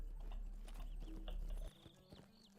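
Hooves clip-clop steadily under a horse in an online game, loud at first and then dropping away to a few faint scattered thuds and small chimes.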